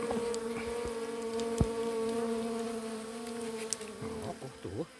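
Bees buzz steadily and close during a honey harvest, a dense continuous drone with a few brief clicks and shifting pitch near the end; no one speaks over it.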